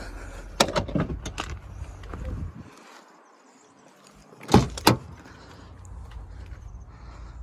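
Mechanical clunks and a whirring motor close by, then a quiet pause and two sharp thuds of a used car's doors shutting, with no talking.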